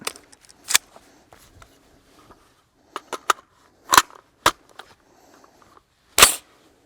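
An AR-15 rifle action is cycled to lock back, giving a few sharp metallic clacks and clicks spread across a quiet stretch, close and fairly loud.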